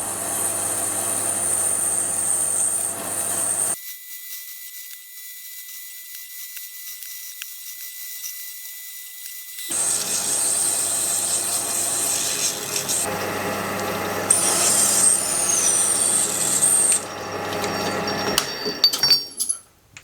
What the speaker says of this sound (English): I'll then come in with a parting blade and then part off that outside material.